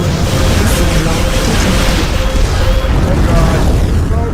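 Rockets exploding in the video game Kingdom Come Deliverance II, a dense and loud barrage of booming blasts and rumble that runs continuously without a break.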